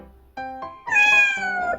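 A cat meows loudly and close, a short call followed by a longer drawn-out meow, with no talking.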